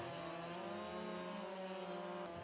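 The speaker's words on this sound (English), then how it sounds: "bring out your chainsaw, rotate it, and then hold it down" A chainsaw cuts through a hedge in the video game Farming Simulator 22, a steady, droning, buzzing engine whine that holds throughout, fairly faint and alone, with no voices.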